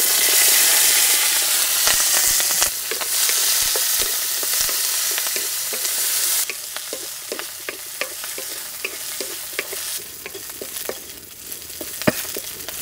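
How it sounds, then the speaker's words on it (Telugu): Green chillies fry in a couple of spoons of hot oil, giving a steady close sizzle and crackle with frequent sharp pops and spatters, plus occasional scrape-like stirring, and no voices. "ఇప్పుడు 2 చెంచాల ఆయిల్ వేసుకుని పచ్చిమిరపకాయలు కూడా వేయించుకుందాం."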